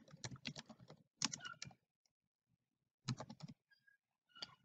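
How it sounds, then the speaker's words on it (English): Bursts of close keyboard typing as a ticket name is entered for an Eventbrite event, quick clicking runs separated by short pauses and a few isolated taps. "just type the name of your ticket"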